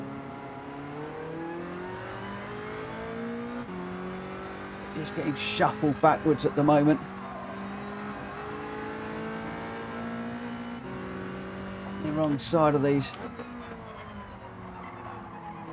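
Race cars in Gran Turismo 7 roar steadily as a pack with layered engine drones, and two bursts of tire squeal or skidding cut through as cars jostle through corners. A commentator talks over the action.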